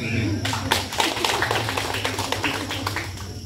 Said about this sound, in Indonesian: Ini tepuk tangan dulu.